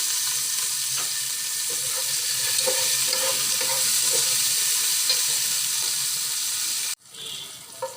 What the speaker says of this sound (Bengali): দিয়ে দেব কাঁচামরিচ 5-6টা, দিয়ে হাই হিটে এগুলোকে নেড়ে চেড়ে নেব।